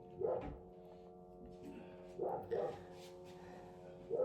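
A dog barking indoors, several short bursts of barks spaced a second or two apart, moderately close and not very loud, with quieter stretches between them.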